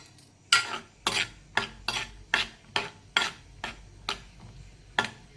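Cashews frying in hot ghee and oil, stirred in a metal pan: about ten sharp, evenly spaced scraping strokes with short gaps between them, close and clear, with no talking.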